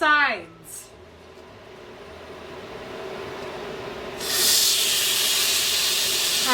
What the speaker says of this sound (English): Now the object is to sear this on all sides.